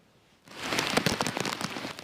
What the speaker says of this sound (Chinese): 大雨落袂停